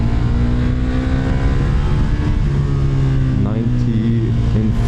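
A KTM Superduke motorcycle engine, loud and close, holds a steady drone with rising and shifting pitch as the throttle is twisted, with a voice talking over it.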